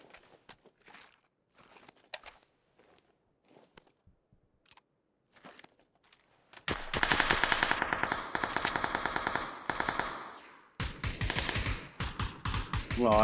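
Gunfire in the battle royale game PUBG starts as scattered faint clicks and taps. It then breaks into loud, dense bursts of rapid automatic fire with a short pause before a final burst.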